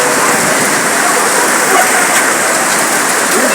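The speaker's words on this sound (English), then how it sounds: "Everyone is running, and it's raining solid." Heavy rain pours down solidly outdoors, a dense, loud, unbroken hiss that fills the whole stretch with no pauses.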